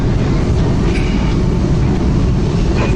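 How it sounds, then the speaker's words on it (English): A model train runs through a station on a model railway, making a loud, steady rumbling roar with faint rail clatter and no clear voices. "Oh, good train there."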